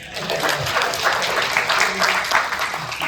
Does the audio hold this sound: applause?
yes